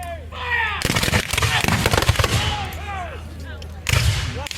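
Musket volley fire at an American Civil War battle reenactment at an outdoor canal festival, a dense burst of cracks and booms followed by a later volley, with voices shouting over it.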